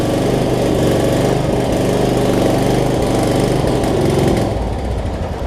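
A riding lawn mower engine with a slightly dirty carburetor runs steadily, giving a loud, close, continuous rumbling drone throughout.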